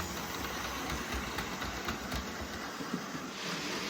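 Model freight train running around a layout loop toward a freight depot yard, giving a steady whirring motor hum with light rhythmic clicks from the track, continuous and fairly loud, with no talk.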